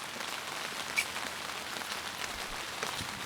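Rain falls steadily at an outdoor Arbor Day ceremony on a university campus, a soft, even patter on surfaces with one brief nearby drop or tap and no voices.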